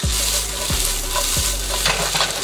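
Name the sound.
shallots added to a hot pan, sizzling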